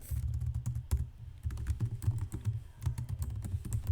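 Computer keyboard typing in a Canva for Education homework task, a steady run of close, crisp key clicks with a few brief pauses and no talking.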